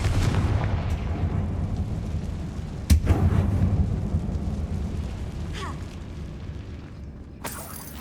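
A Confringo blasting spell goes off in a mine in Hogwarts Legacy, one deep sudden boom with a rumbling tail, followed by low ambient cave drone and a few faint later thuds.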